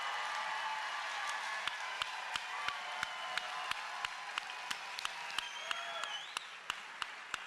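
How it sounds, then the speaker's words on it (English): Audience applause at a CPAC 2021 conference panel, a dense steady wash of clapping from a crowd that holds for several seconds without talk. "can I get a show of hands or a round of applause"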